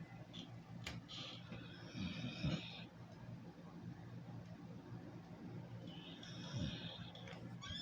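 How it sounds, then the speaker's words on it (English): Soft, low dog snores come in two slow breaths several seconds apart, close and quiet, with faint background noise between them. "That's as much as you're going to hear my dog snoring"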